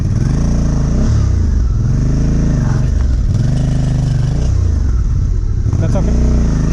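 KTM 390 Adventure motorcycle engine revving and straining on wet, muddy ground with no traction, a loud continuous rising and falling growl close by, with people talking over it.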